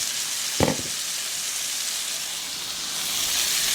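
Butter chicken simmers in its sauce over medium heat, giving a steady, close hiss and sizzle broken by one short clunk of cookware early on.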